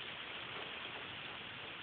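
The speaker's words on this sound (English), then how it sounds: "Here comes the rain." Steady rain falls in a backyard south of State Route 29 near Urbana under tornado-producing storm clouds, a faint, even hiss of drops continuing without pause and with no talking.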